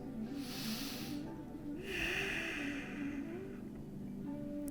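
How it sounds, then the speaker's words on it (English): Slow, deep breaths during a yoga stretch for back and sciatic pain, a long hissing exhale and then a second breath, close and soft against a quiet room. "Big, deep breaths."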